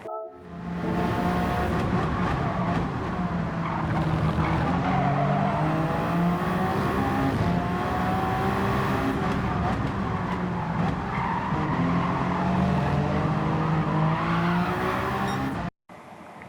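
A race car lapping in a racing video game, with a continuous loud engine roar that rises and falls through the gears and tyres squealing through corners, heard up front for the whole lap.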